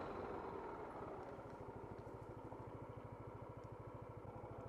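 A Yamaha Tricity 155 scooter engine idles while stopped, a steady low, rapid pulsing throb held close and even throughout, with no talk over it.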